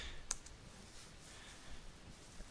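Computer keyboard typing during an SSH server login, a few faint, sparse clicks against a quiet background, with no talk.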